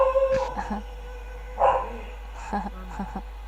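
A dog howls and yips in short, wavering cries at moderate distance, several separate calls over a low steady hum.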